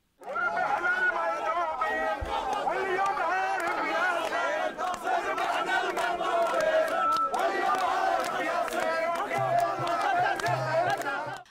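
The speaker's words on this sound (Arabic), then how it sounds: "أصحاب الستورات البيض احتفلوا بالنصر ورددوا هتافات الثورة" Engineers celebrating an election victory, a large crowd chanting revolution slogans in loud rhythmic unison, sustained and close, with shouting voices throughout.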